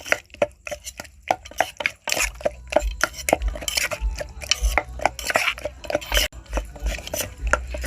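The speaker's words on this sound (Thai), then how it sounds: "ตำไปเรื่อยๆนะคะจนมะเขือละเอียดค่ะ" Eggplant pounded in a mortar for a Thai soup with salted cow skin, giving repeated close thuds with a clattery knock at each strike, steady and rhythmic without speech.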